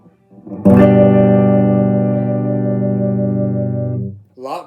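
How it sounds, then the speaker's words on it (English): Electric guitar with a DiMarzio Super Distortion pickup rings out one sustained, distorted chord that holds steady for about three seconds, then is cut off; no talking over it. "And this is the DiMarzio Super Distortion."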